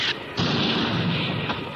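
A spear blast shatters a black stone statue in a dramatized scene, a loud booming crash that swells and holds as a dense roar.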